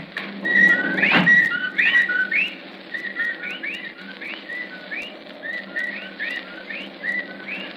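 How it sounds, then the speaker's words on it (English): Whippoorwills call as a radio drama sound effect for a Lovecraft horror broadcast: repeated rising whistled phrases, several birds overlapping in a steady rhythm, with a brief rustling burst early on and no speech. "Well, there are the whippoorwills."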